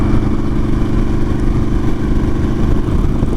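A Harley-Davidson Sportster S motorcycle on a countryside ride gives a steady, loud engine drone with a low, pulsing rumble that holds close and even throughout, no voices over it.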